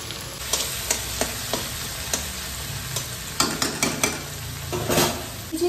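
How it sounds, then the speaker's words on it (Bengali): Bay leaves and onions fry in a pan, a continuous close sizzle with a series of sharp spatula scrapes and taps against the pan, and nobody speaks. "দুটো তেজপাতা দিয়ে দিলাম, একটুখানি পেঁয়াজগুলো দিয়ে দিলাম।"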